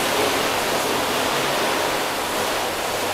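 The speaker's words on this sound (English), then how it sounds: "we're gonna rinse this down" A water hose sprays down a car panel coated with ceramic and hybrid coatings, producing a continuous broadband hiss of spraying water, steady and close with no pauses.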